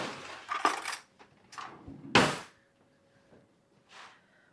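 Kitchen sounds come while someone fetches a spoon from a drawer during strawberry shortcake prep. A few separate clatters and clinks of metal utensils are heard, one sharp knock stands out, and quiet gaps fall between them.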